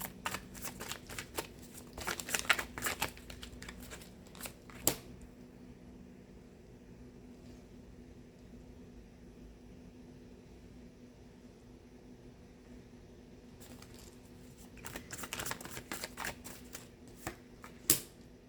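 Bursts of tarot cards being shuffled close by, rapid riffling at the start and again near the end, with a quiet stretch between.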